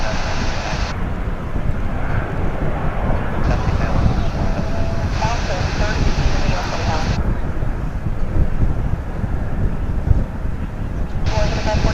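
An American Airlines airliner at DFW Airport roars steadily as a broad, continuous jet rumble, with gusting wind noise and a voice talking over it throughout.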